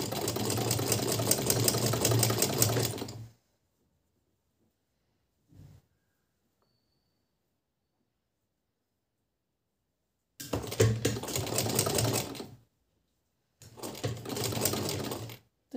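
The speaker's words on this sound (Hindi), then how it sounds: "तो देखिए इस पर सिलाई लगा के बताती हूँ।" A sewing machine stitches velvet piping in three separate runs of fast, even whirring and clatter. Long silent gaps fall between the runs, and the last run is short.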